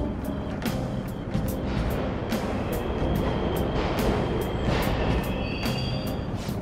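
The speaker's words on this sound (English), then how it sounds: "The trains are totally running!" Subway trains run in Persona 5 Royal, a steady loud rumble and rolling clatter of rail cars with rhythmic clicks and a faint high squeal, heard alone without talk.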